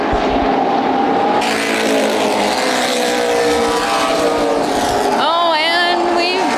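Late model sportsman race cars roar past at an oval short track, a loud continuous engine drone with a rising-pitch pass toward the end, under a commentator's voice.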